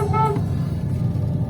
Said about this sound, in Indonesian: Klakson mbok menawa mobil.